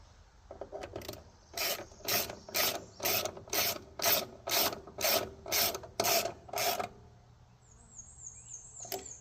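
A socket wrench ratchets about a dozen evenly spaced, close, loud clicking strokes while tightening a small bolt during assembly of a Woodland Mills HM130MAX sawmill, then falls quiet.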